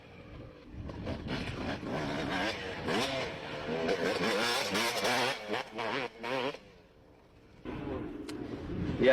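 A 1994 Honda CR motocross bike engine revving in a test session, rising and falling blips of a loud two-stroke exhaust over several seconds, with a brief lull before another surge.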